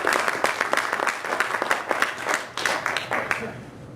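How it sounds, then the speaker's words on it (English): An audience at a community event claps for an introduced presenter, a loud, dense patter of many hands sustained throughout, tapering slightly at the end. "everyone please give a round of applause to Andrew Blanchard"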